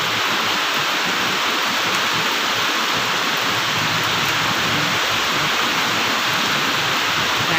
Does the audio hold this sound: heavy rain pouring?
yes